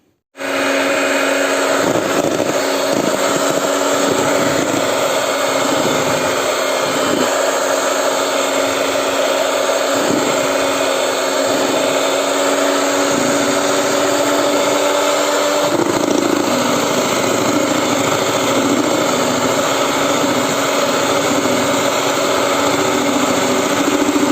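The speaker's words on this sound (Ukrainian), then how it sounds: "Зараз беру яйця, додаю туди цукор і все це гарно своїм міксером збиваю до пішної піни." An electric hand mixer whirs loudly and continuously at close range while beating eggs with sugar into a fluffy foam for an apple pie batter, its tone dropping slightly partway through.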